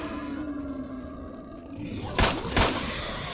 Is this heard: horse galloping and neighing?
no